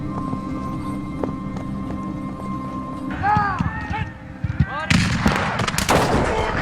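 British artillery bombarding the French advance during the siege of Fort William Henry in the French and Indian War: a steady low battlefield rumble with scattered booms, voices shouting partway through, then a loud cluster of sharp, close blasts toward the end.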